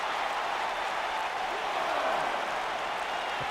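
Video game arena crowd for a WWE 2K19 Smackdown Live match in Glendale, a steady dense roar of cheering held at even loudness throughout, with no clear breaks.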